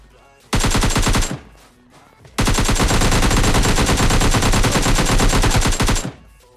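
Automatic gunfire from a machine gun in the mobile battle royale game PUBG Lite: a short loud burst of rapid rounds, a pause, then a long sustained stream of dense shots, close and unaccompanied by talk.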